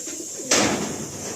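A pigeon in a loft gives a brief coo, with a sharp knock or slam mid-way through the short, faint, quiet moment.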